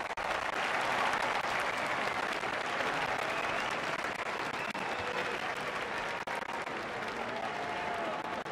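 Stadium crowd applause rolls on steadily for several seconds after a boundary in the cricket video game Don Bradman Cricket 14, a broad, even roar with no one speaking.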